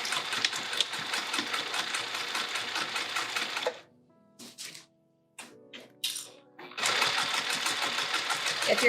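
Sewing machine stitching through layers of fabric and fleece on a pouch, running in fast, steady bursts, with a pause in the middle for brief handling noises before stitching resumes, loud and close.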